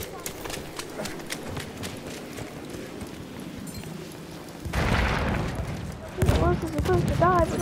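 Horses in the World War I shooter Battlefield 1 galloping with rapid clip-clop hoofbeats, while battle noise and explosive bursts break in partway and someone talks over the action.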